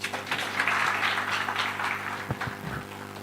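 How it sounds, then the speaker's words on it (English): Audience applause at a live public lecture opened with a prayer, a steady wash of clapping from a seated crowd lasting a few seconds, fading slightly toward the end. "He needs another round of applause, ladies and gentlemen"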